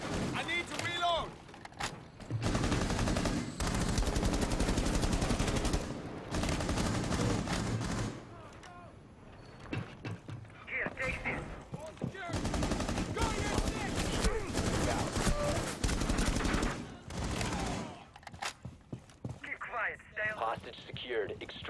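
Rainbow Six video game gunfire in long, loud automatic bursts broken by short pauses, mixed with radio-style voice callouts and game effects.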